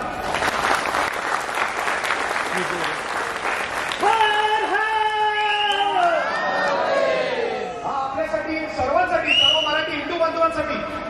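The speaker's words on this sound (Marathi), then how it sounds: "तुम्ही स्वतःसाठी एक टाळ्या वाजवा" An audience at a Chhaava film screening event claps loudly for a few seconds, then breaks into cheering and shouted chanting from many voices.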